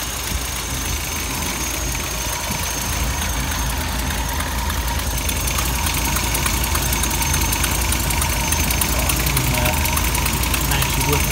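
A 1956 Ford Fairlane Crown Victoria engine idles steadily with a low, even rumble and faint mechanical chatter throughout, close by and continuous.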